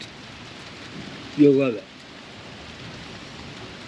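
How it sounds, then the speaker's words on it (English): Steady rain during a morning thunderstorm, a continuous hiss and patter with no clear thunder clap, and a brief spoken phrase over it partway through. "Just listen to this. The thunderstorms right now."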